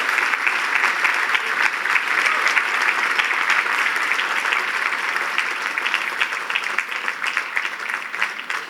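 An audience at a gala bursts into sustained applause, loud and dense clapping from a large crowd that holds steady for several seconds before easing slightly at the end.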